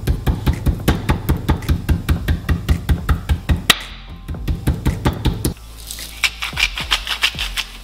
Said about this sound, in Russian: Обратной частью ножа нам нужно отбить немного грудинку.